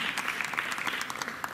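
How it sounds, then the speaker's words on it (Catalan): A brief burst of concert audience applause at a teachers' music school concert, dense and fairly distant, filling the whole moment without talk. "Gràcies, gràcies per vostre aplaudiment."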